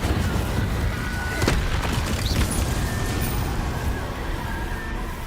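An Incendio fire spell cast in Hogwarts Legacy, a loud, dense burst of roaring, crackling flame that fills the whole stretch with a steady blast.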